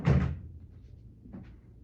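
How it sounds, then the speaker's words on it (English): A drawer holding a radio-controlled talking atomic analog alarm clock is pushed shut with one solid thunk, followed by a faint small knock about a second later. "we're gonna put this alarm clock in this drawer really carefully, and then we're gonna shut the door"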